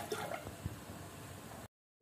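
A small splash of water, about half a spoonful, poured while preparing drumstick leaf (moringa) juice, with a brief drip and liquid trickle close by that ends abruptly.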